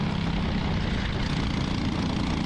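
A racing kart engine holds a steady high rev with the clutch engaged during an Indy karting race, a continuous loud droning buzz with no pauses or voices.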